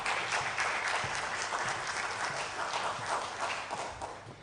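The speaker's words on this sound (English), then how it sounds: "A big round of applause, ladies and gentlemen." An audience at a symposium claps steadily for several seconds, a moderately distant, even wash of applause with no voices over it.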